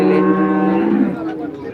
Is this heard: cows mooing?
yes